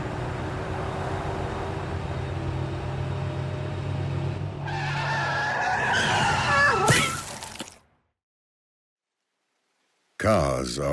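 A car skids with a rising screech and crash-like burst, loud over a low rumbling background, then cuts to silence before another short burst of noise returns.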